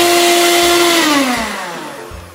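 Electric hand mixer whirring through cake batter with vanilla and baking powder, a steady loud motor whine that slows and drops in pitch toward the end, with no talking.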